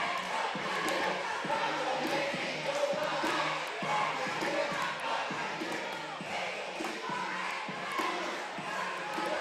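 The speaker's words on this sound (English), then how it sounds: "Lively crowd here once again tonight in the Lyons Community Center." A lively crowd at a Geneva Panthers vs. Lyons Lions boys high school basketball game fills the Lyons Community Center gym with a constant roar, cut by sharp short knocks and squeaks.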